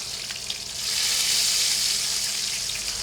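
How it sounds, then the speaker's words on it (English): Thin slices of bacon sizzle and crackle steadily in a hot pan, a dense frying hiss that swells louder after the first second and holds close and continuous with no talk over it. "Love that sizzling sound"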